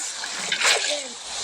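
A water splash in a video game as a character jumps in, a short watery burst at moderate level under a faint background hum.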